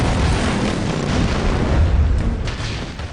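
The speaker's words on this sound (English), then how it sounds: "the set designers build a barn with pyrotechnics implemented to deliver a power-packed explosion" A pyrotechnic explosion destroys a barn built for a film stunt, a loud, dense, sustained roar of blast and burning debris with no talk.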